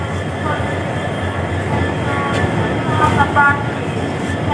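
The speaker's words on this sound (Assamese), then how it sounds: "আমি গুৱাহাটীত পहुঁচি গ'লোহি, একদম ষ্টেচন পাই গ'লোহি" A train rumbles steadily with a loud, continuous roar and faint metallic squeals, heard up close amid the busy noise of Guwahati railway station.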